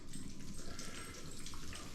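Yuengling lager poured into a sausage mixture, a continuous splashing pour with bubbly fizz lasting the full two seconds, close and fairly steady, with no talk over it.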